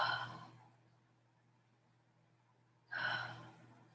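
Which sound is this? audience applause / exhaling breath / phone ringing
exhaling breath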